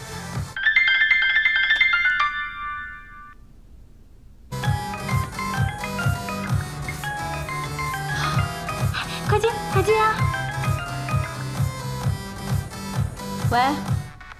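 A mobile phone rings with an electronic ringtone for about three seconds, then falls silent. A background track with music-like tones follows, and a voice speaks faintly over it.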